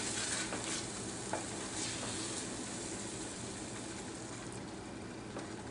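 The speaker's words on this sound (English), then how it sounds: "what I'm going to do is add the heavy cream" Heavy cream poured into a hot pan with marsala, a soft steady sizzle with faint stirring scrapes and light clinks, quiet and continuous with no talking.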